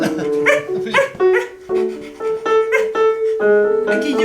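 Improv actors at a stage performance imitate dogs with voiced barks, yips and whimpering whines, a loud, close run of rising and falling vocal cries in quick bursts.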